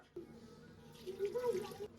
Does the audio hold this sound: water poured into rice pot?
yes